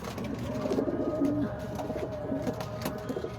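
Pigeons coo in a loft or on a rooftop, low throaty calls repeating in soft irregular bursts, close and steady over a light background hum.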